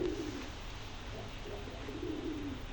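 Domestic pigeons coo faintly in low, murmuring phrases against a steady background hiss, with no voices.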